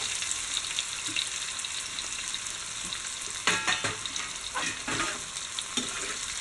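Chopped onion frying in a pan for a spicy Kerala-style beef fry, a steady close sizzle with a few louder crackling bursts and stirring scrapes.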